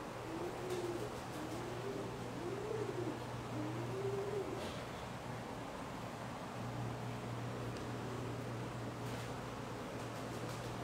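Pigeons coo in soft, repeated rising-and-falling calls over a steady background hiss, fading after a few phrases.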